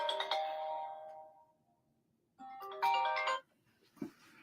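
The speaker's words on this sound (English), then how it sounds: "Oh, my phone's ringing." A mobile phone ringtone rings in a quiet room, a bright melodic chime that fades, then a second burst of tones, followed by a short soft knock.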